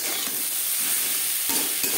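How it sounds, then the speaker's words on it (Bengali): Peas and tomato are stirred into fried vegetables in a pan, giving a steady close sizzle with scraping spatula strokes through two seconds and no voices. "সবজির সাথে বেশ ভালো করে মিক্স করে দেবো। কাঁচা গন্ধ যাওয়া পর্যন্ত নাড়াচাড়া করে নেব।"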